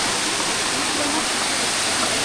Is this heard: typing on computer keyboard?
no